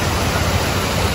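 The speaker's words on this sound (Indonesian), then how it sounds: "Okey, ini sungai dia." A river rushes past a riverside campsite in Simpang Pulai, its water coming straight down from the hills, as a loud, dense, continuous roar with no talk.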